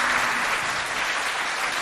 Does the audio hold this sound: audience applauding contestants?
yes